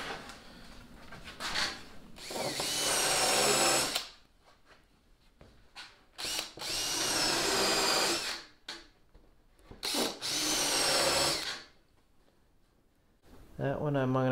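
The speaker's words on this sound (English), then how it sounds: "I gotta finish drilling those holes." Power drill boring holes in plywood, three loud close bursts of whining motor and bit grinding into wood, separated by short pauses with handling noises.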